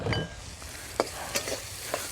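Fried rice being stirred in a pan of hot sesame oil, a steady soft sizzle broken by a few sharp scraping and stirring clacks, close and alone with no voices.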